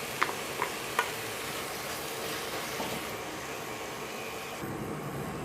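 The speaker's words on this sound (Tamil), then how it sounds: "இப்போ இதையும் சேர்த்து நல்லா அந்த பச்சை வாசனை போகிற வரைக்கும் வதக்கிக்கலாம்" A thick coconut paste sizzles softly in a hot pan as it is sautéed, with a few scraping stirs early on and a steady low frying hiss throughout.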